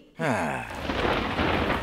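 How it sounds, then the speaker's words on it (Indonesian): Heavy rain starts abruptly and pours steadily, a dense close hiss with a rumbling undertone that continues without pause, alone with no voices. "Oh, hujan."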